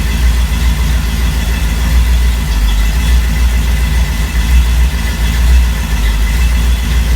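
A car engine idles steadily after sitting unused for eight years, a loud, continuous low rumble with a slightly uneven throb and no voices.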